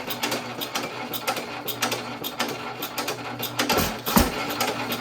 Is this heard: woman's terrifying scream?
no